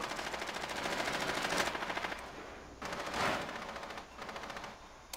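Rapid automatic gunfire from Rainbow Six Siege during a Bank map team deathmatch, loud, dense bursts with short breaks near 1.7 and 2.8 seconds and a fading tail at the end.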